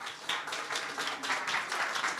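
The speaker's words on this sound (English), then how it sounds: "I think that this big round of applause is really very fair" An audience applauds at a forum on digital technologies for workforce reskilling, a moderate, even round of clapping with no speech over it.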